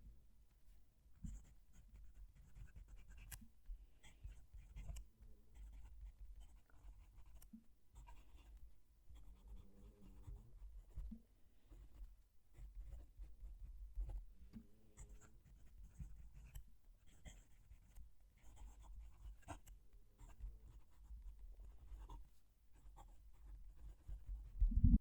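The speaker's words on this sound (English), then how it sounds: "Let's move the mic down to the page and we'll write a statement." A fountain pen scratching across paper, recorded very close: soft, continuous scritching strokes with brief pauses between words, quiet and alone.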